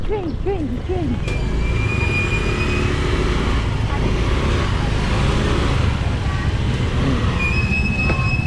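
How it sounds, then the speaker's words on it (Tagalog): A train rolls past on the railway close by, a loud, steady rumble of wheels on track with high metallic squeals and brief horn-like tones rising over it. "Ay. Train."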